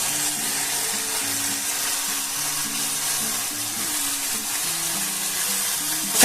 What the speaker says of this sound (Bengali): আর রসুন, পেঁয়াজ, কাঁচা লঙ্কা খুব ভালো ভাজা হয়ে গেছে।